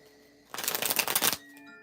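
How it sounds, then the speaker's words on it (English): A quick riffle of tarot cards lasting under a second, a dense burst of flapping card edges close by, alone between quiet moments. "Hold on, let me shuffle right quick"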